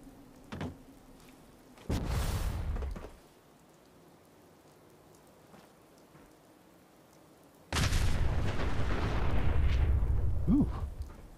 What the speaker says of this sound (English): This game has pretty great explosions when the cars explode.